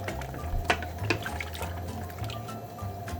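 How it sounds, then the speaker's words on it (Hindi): Hot water pours into a pressure cooker holding beef for haleem, a continuous close splashing stream with a few sharper splashes and clinks. "अब इसमें मैं गर्म पानी डालने लगी हूँ।"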